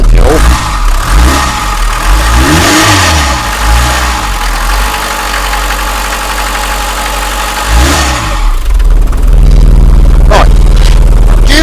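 An old car engine cranks, catches and revs in several loud bursts close by, then settles to a rough idle, with brief voices nearby.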